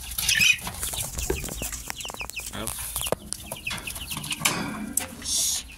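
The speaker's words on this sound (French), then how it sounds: "j'ai toujours les poules qui couvent et elles aussi" Broody hens and a rooster cluck and crow around a backyard coop, with wing flaps and scattered poultry calls close by, and a brief voice in the middle.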